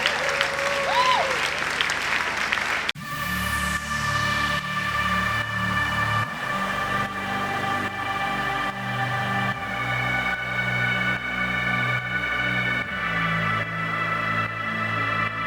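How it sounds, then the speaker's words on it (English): Audience applause at a graduation ceremony starts as one continuous steady wash of clapping, close and loud, lasting the whole stretch while a sustained musical tone plays underneath. "I'm sure you can do better with the hand clap."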